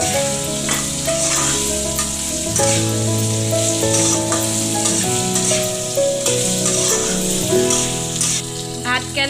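Bitter gourd, seasoned with turmeric, salt and a little chili powder, fries in a pan with a dense, steady sizzle and occasional stirring, set under constant background music.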